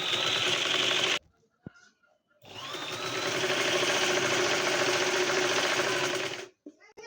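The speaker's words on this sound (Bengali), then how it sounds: "এইভাবে পুরোটা গলা রাউন্ড করে সেলাই করে নেব" A sewing machine stitches around the neckline of a baby frock in two loud, close, continuous runs of rapid whirring, separated by a short pause with faint handling noises, with no talking.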